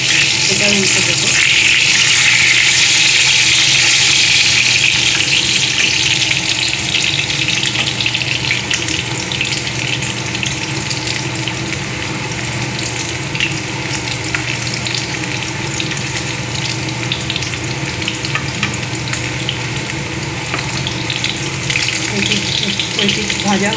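Pomfret fish fries in a pan with a loud, continuous sizzling hiss that stays close and steady throughout, with occasional crackles from the hot oil.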